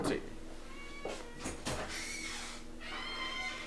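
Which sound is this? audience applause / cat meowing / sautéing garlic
cat meowing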